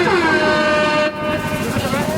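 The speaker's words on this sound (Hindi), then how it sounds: "और ये करकस की आवाज, भोंपू की आवाज" A loud, blaring horn sounds at a village kabaddi match. The harsh tone drops sharply about halfway through, then continues as a wavering honk.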